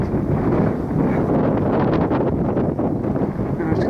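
Steady, loud wind buffeting a microphone on an open hillside slope in the English Pennines, a continuous broadband roar with gusty swells and no pauses.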